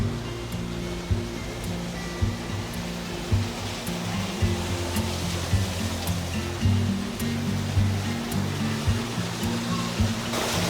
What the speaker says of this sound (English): You got the waterfall, the Tree of Life there on the top.